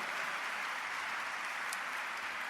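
A church congregation applauding a priest, dense and steady clapping from a large crowd at moderate distance, with no gaps throughout.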